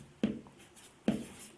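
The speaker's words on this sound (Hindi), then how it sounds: "तो इसके संदर्भ में कुंटर-ओडेनेल ने कहा है, नाम लिख दे रहे हैं इनका," Two short, distinct marker or chalk strokes on a board as a name is written during a business management lesson, faint and close with a quiet pause between them.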